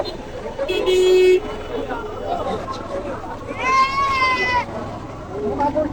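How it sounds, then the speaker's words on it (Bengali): Goats bleat loudly at a busy goat and cattle market in Mitachhara, two long wavering cries a few seconds apart, with people chattering throughout. "আর একটা বড় ছাগল দেখা যাচ্ছে"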